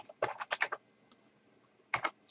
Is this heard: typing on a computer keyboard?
yes